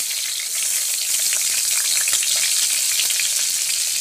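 Pointed gourd (potol) frying in a small amount of hot oil, a dense, steady sizzle holding loud and close throughout with no voices.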